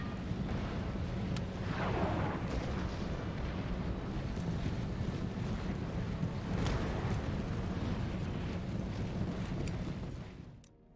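Battle din in Empire: Total War, with a continuous roaring rumble of artillery and massed gunfire, dense and loud throughout and fading out at the end.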